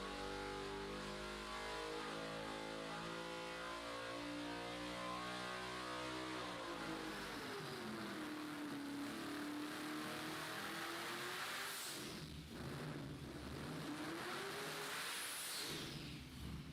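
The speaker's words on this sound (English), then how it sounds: "That's like a speedboat motor that they're putting in a car." A car engine fitted with a 3D printed titanium turbo housing revs hard, a deep rising and falling drone with sharp throttle swells and pitch sweeps, loud and continuous with no talk.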